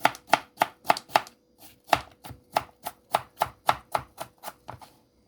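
A knife chops food on a cutting board in a quick, regular run of about twenty crisp, close thuds, pausing briefly once before the rhythm resumes.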